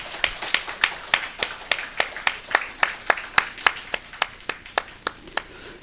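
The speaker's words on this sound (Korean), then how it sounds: "이번 달 생일 맞으신 분들 우리 박수로 축복을 하겠습니다" A church congregation claps in blessing for members celebrating birthdays this month during a Sunday morning service: a steady, evenly paced run of about twenty sharp claps, fairly close and fading slightly at the end.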